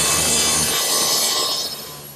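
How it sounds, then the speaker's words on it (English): A saw cuts through wooden rails and stiles to length for a CD storage case, giving a close, loud rasping cut that fades out toward the end. "Now I'm cutting the rails and stiles to length"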